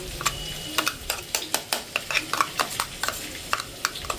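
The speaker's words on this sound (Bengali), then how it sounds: "এবার এই মশলাটাকে দিয়ে ভালো করে কষাবো" Potatoes and onions sautéing in oil with cumin, chili and turmeric spice paste, close sizzling under a busy rhythm of spoon scrapes and clinks against the pan.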